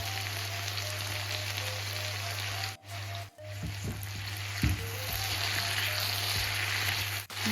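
Peppers frying in a pan give a steady broadband sizzle with occasional soft stirring knocks, continuous and close throughout.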